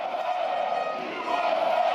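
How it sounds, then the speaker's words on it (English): Crowd at a pro wrestling show for veterans cheers and chants loudly and steadily, a dense sustained roar of many voices throughout. "He does things like chant USA, and everyone cheers."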